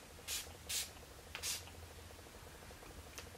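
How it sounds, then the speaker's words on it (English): Makeup setting spray misted onto a finished face in three short, soft hissing bursts close to the mic, then quiet. "we are going to apply even more setting spray"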